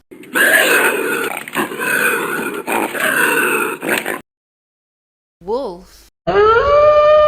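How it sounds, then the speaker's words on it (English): A bobcat gives a series of harsh, wavering yowls and growls, several raspy calls in a row, then a brief warbling cry and a rising, drawn-out howl, all close and loud with short silences between. "bobcat"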